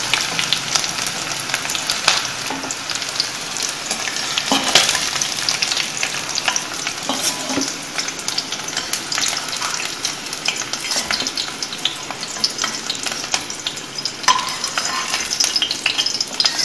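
Onions frying in hot oil in a pan, a loud continuous crackling sizzle with frequent spatula stirs and scrapes throughout, close up and without voices.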